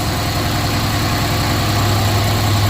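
A Mercedes CLS 550 engine idles steadily just after starting, with a constant low hum and rumble close by. It runs alone with no talking.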